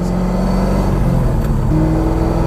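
C5 Corvette Z06 with a C6 shifter pulling hard under wide open throttle, a loud, steady engine drone heard from inside the car that steps up in pitch partway through, with no talking.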